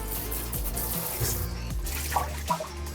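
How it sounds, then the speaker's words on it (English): Tap water running into a glass jar to rinse debris from a hydroponic net pot holding a Hoya plant: a steady close splashing pour with small gurgles and bubbling shifts as the jar fills. "So I'm just going to fill it up, try to wash out debris,"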